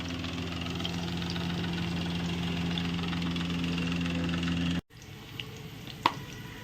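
A household electric fan runs steadily in a home kitchen, giving a constant low hum with a faint motor whine, then cuts out abruptly near the end, leaving quieter room noise with a couple of small clicks.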